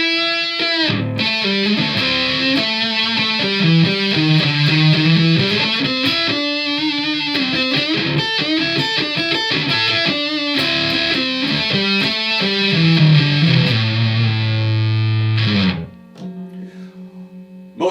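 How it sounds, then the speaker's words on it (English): Monoprice Indio Cali Classic electric guitar played through its neck pickup, a loud continuous run of driven, effect-laden notes for about fifteen seconds, then cutting to a faint lingering tone. "And the classic Fender Stratocaster sound it comes from just using that neck pickup."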